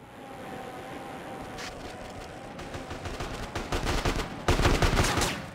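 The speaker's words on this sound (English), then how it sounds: "SWAT team shooting at me or something?" Gunfire from a SWAT team in GTA San Andreas, a game ending mission, rattles in rapid bursts that build louder toward the end, with a steady engine-like hum beneath.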